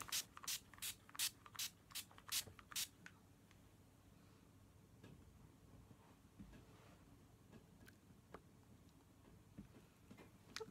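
Several quick, close bursts of makeup fixing spray misting in a row, then quiet rustling and small handling sounds.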